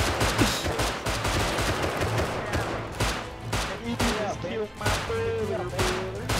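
Rapid bursts of gunfire in the survival game Rust, a dense run of overlapping shots mixed with a few voices shouting over the top.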